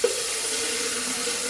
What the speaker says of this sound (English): And just pour some water in.